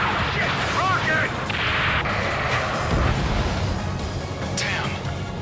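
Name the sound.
rocket explosion in video game Ace Combat 7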